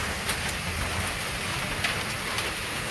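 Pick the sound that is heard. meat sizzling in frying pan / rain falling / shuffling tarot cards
rain falling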